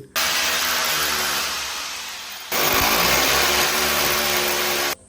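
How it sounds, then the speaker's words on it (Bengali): A power drill bores into a wall to mount a TV, two loud continuous whining bursts close by, the second after a short pause and slightly harsher. "এই যে দেখো এখন সবার আগে করা হচ্ছে ড্রিল"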